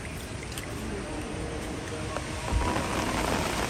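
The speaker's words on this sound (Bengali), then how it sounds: "বৃষ্টি শুরু হয়ে গেছে বন্ধুরা।" Rain falling outdoors during fishing, a fairly faint, steady hiss with scattered patters and a slightly louder burst near the end.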